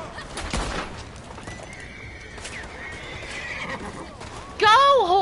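In the video game Red Dead Redemption 2, a horse whinnies and its hooves clip-clop while a player talks over it, ending in a loud, close neigh.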